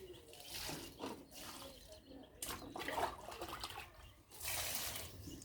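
Water poured onto garden trees during watering, heard as uneven splashing and trickling bursts with a brighter gush near the end, close by, with voices talking faintly in the background.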